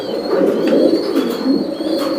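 Caged pigeons at a pigeon farm coo in a steady, low, throaty murmur that runs unbroken and close by, with no voices over it.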